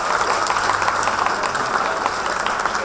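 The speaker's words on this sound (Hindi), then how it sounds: "ताली बजाओ।" Audience applause at a farewell speech, dense and steady clapping from a large crowd that fills the whole stretch at a loud, even level.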